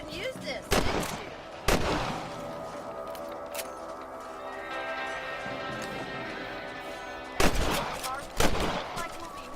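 Sharp gunshots ring out in the Wild West video game Red Dead Redemption, several separate loud cracks spaced over a few seconds with quieter game sounds between them.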